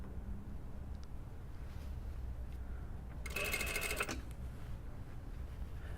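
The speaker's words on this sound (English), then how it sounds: "I usually don't like to sew over pins, so I pull the pin out just before I get to it." A sewing machine stitches a two-piece sleeve on a dartless lined jacket, running in one close, steady whirring burst of about a second over quiet room tone.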